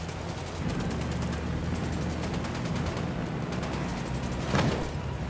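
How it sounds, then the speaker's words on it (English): Rapid gunfire from the video game Ghost Recon Wildlands: dense, sustained automatic bursts roll on steadily for several seconds, with a sharper, louder crack near the end and no talking. "I'm opening fire."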